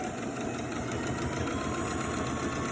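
A sewing machine runs steadily while back stitching a shirt collar, a continuous close motor whir with no pauses and no talk.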